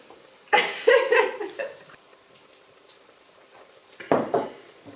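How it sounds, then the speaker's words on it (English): Racuchy, Polish pancakes, fry in a pan with bursts of close sizzling and some pan clatter, easing to a quiet hiss between louder flurries. "We are going to continue to fry our racuchy"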